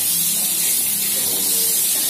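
Eggplant frying in hot oil in a home kitchen, a loud, continuous hissing sizzle with no pauses, and a voice faintly in the background.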